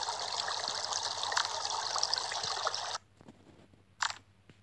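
Water wave sound effect in the mobile game Kick the Buddy: a steady broadband rushing wash for about three seconds, then cutting off to quiet with a brief splashy burst near the end.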